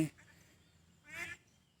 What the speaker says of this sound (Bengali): শুধু হাঁসেরই শব্দ চারিদিক দিয়ে ভেসে আসছে